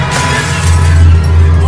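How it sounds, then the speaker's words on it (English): Glass shattering inside the horror video game Visage, a sharp crash heard nearby amid a dense, rumbling ambient game soundscape. "You broke another glass, Marco?"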